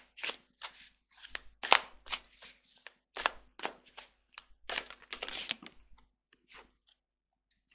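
Tarot cards are shuffled close by in a quiet room, a series of quick, crisp riffles and slaps in uneven bursts with short pauses between them and no talking.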